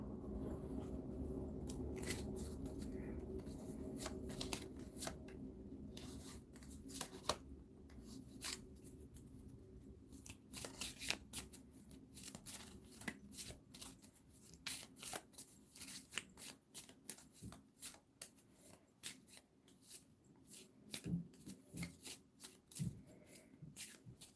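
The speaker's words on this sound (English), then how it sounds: "And then it said these get shuffled into the deck." Marvel Champions playing cards are shuffled into a deck by hand, a long run of quick crisp riffling and snapping bursts, close and fairly quiet, without speech.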